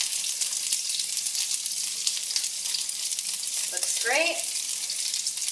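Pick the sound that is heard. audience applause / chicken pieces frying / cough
chicken pieces frying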